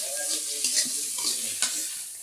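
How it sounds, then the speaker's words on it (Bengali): Ground spices, chili powder, turmeric and salt frying in a pan, a steady close sizzle with a few soft stirring scrapes and clinks, no voices. "লবণ দিয়ে আমি মশলাটা ভালো করে কষাই নেব।"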